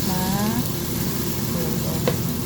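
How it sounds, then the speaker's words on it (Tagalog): Canned tuna stirred slowly in a sizzling pan, a constant loud frying hiss with soft scraping, while a voice talks faintly in the background. "Then, isusunod na natin lagay yung ating tuna. Haluin lang natin siya ng dahan-dahan guys."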